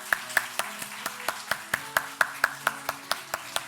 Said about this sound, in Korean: 우리 같이 축복의 박수를 나누겠습니다